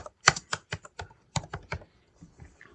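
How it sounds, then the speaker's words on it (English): Close, crisp keystrokes on a computer keyboard come in an uneven burst of about a dozen taps that slows and fades toward the end, with no talking. "I'm just going to start typing my name."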